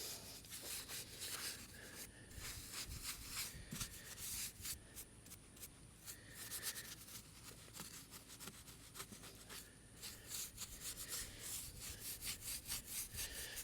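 A brush scrubs a stone grave marker in steady, rapid rasping strokes that run continuously and fairly quietly, with no voices.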